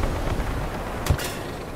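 Tank cannon in War Thunder, driving a T-34 (1940): one sharp, fairly loud blast partway through, over a steady low rumble of engine and ambient noise, with no talking.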